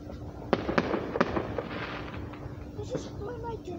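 Fireworks pop and crackle outdoors in a quick series of sharp distant bangs, then fade into a steady rumbling murmur as people talk nearby.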